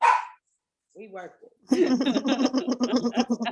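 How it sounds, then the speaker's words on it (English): A dog barks in a series of quick, loud yaps and yips at close range, following a brief stretch of a person talking. "Whose dog is barking in the conversation?"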